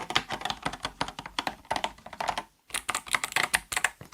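An 8BitDo Retro Mechanical Keyboard with clicky switches is typed on at a close, quick pace, crisp clicks running in a steady burst, one brief pause, then more rapid keystrokes.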